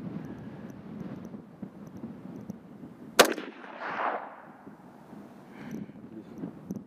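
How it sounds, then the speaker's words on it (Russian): A single sharp rifle shot cracks out at a target on an outdoor range on a windy day, standing alone above steady wind noise, followed by a short rushing echo. "Стреляю в черную точку, раз ветер усилился."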